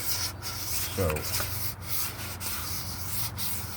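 Hand sanding of body filler on a car body, a soft continuous rubbing scrape that runs through the whole stretch with a low hum beneath it and a brief spoken word near the start.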